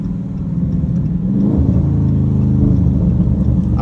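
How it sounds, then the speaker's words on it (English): Dodge Scat Pack engine rumbles steadily from inside the car while driving, a loud, low exhaust drone that swells slightly partway through, with no one speaking. "I don't even know if y'all be able to hear the burbles, but they do be burbling a little bit."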